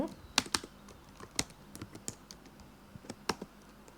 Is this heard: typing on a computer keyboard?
yes